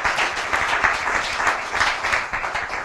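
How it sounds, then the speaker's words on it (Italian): An audience at a TCX 2014-2015 final in Vittorio Veneto applauds with steady, dense clapping that fills the room, swelling and easing slightly in waves. "Fategli un applauso."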